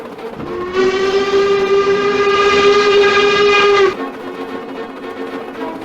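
A steam locomotive gives one long, loud whistle blast of about three seconds as it arrives, with rail and running noise carrying on beneath it before and after.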